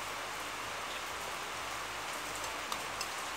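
Heavy rain pours in a dense, constant hiss, steady and enveloping with only a few faint drips standing out.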